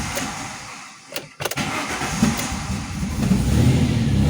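An Alfa Romeo 164 V6 Turbo Busso engine with a crank-no-start fault is cranked by its starter, sputters through a short gap, then catches and runs with a rising, loud engine note up close.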